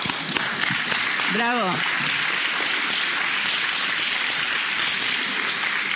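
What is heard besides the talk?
audience applause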